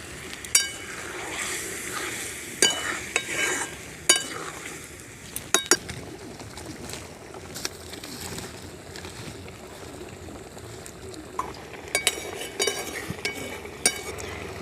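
A pot of loita fish curry simmers after water from the marinade bowl is added, with a soft steady bubbling hiss broken by scattered metal and glass clinks of utensils and pans nearby.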